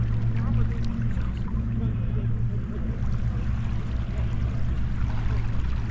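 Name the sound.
gentle water ripples at the bay shore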